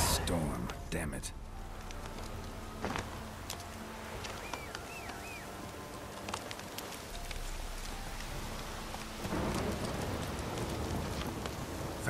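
Steady rain from a storm on Fyke Isle in The Witcher 3, a continuous hiss of falling water with scattered drops and small clicks, the rain thickening slightly toward the end.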